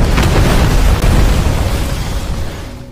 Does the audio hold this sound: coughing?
no